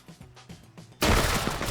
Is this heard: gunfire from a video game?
yes